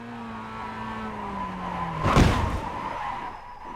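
Racing-simulator game car oversteering on the first lap, its engine note droning and falling before a loud burst of tire skidding and squeal around the two-second mark, then easing off.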